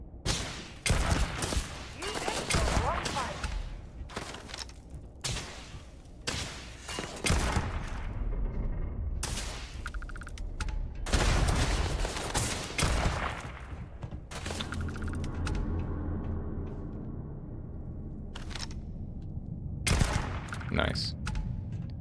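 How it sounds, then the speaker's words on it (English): Enemies in the Starfield video game fire guns in loud, repeated bursts and single shots with heavy impacts, coming in clusters with short gaps, while a person talks in between. "Why are they already shooting at me?"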